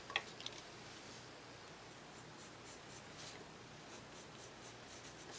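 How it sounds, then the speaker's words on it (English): A pencil traces around a shape on paper while making a pincushion ring, a faint, continuous scratchy rubbing close by and under a quiet background hiss. "I'm just going to make it a little bigger with my pencil around it"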